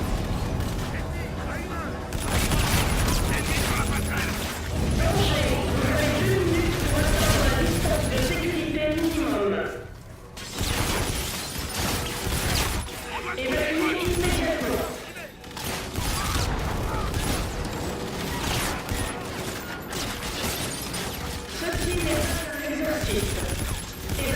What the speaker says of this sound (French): Tire de suppression là-haut.